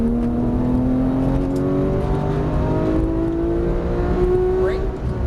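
Porsche 991 GT3 accelerating hard on a racetrack, its engine note climbing steadily and loud throughout, heard from inside the car while a driving instructor talks over it.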